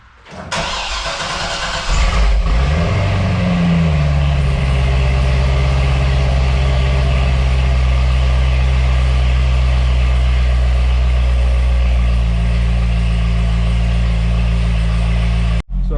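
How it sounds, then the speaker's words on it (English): A stock-exhaust Corvette C6 ZR1 with a supercharged LS9 V8, valves open, cold-starts: it cranks and fires up with a loud roar, then settles into a deep, rumbling idle that continues steadily. "this is a cold start of a stock exhaust, valves open C6ZR1"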